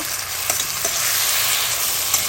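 Spice paste being fried down in oil in a pan, giving a steady, fairly loud close sizzle with a couple of soft stirring knocks early on.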